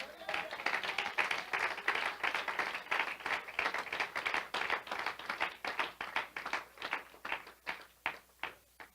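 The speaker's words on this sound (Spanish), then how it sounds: "Démosle un aplauso al Señor." A congregation applauds during a church prayer service, dense clapping that swells early and then thins into scattered, slower claps toward the end, with some voices mixed in.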